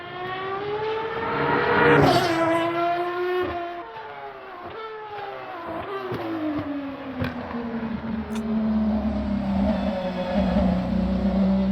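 A high-revving Aston Martin Valkyrie supercar engine sweeps up and down in pitch, loud and close, with small crackles and pops sprinkled through the exhaust note.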